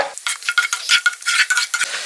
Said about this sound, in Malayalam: ഈ സവോള വറുത്ത എണ്ണ തന്നെ നമുക്ക് ക്യാഷ്യൂനായിട്ട് ഇനി വറുത്തെടുക്കാം